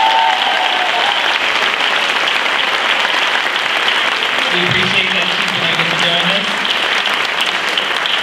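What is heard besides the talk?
audience applause at graduation ceremony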